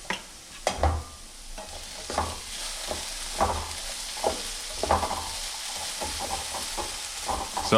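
Curry-style potatoes cook in a pan with garlic powder, giving a soft, steady sizzle broken by occasional clinks and scrapes of a stirring utensil, close up and fairly quiet, no talking.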